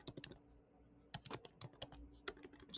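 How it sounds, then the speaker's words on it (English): Quiet, close clicks of a computer keyboard come in quick irregular bursts separated by short pauses. "Let me type this for you to see."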